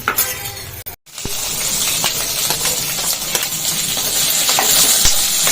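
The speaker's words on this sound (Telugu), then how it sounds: "పచ్చిమిర్చి కూడా సిమ్లో పెట్టి వేయించుకుంటే మనకు ఘాట్ అనేది రాదు" Green chillies fry in oil in a pan over a low flame, a close steady sizzle with scattered pops and a metallic clink near the start, no voices.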